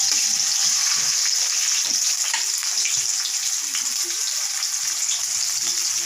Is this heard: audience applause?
no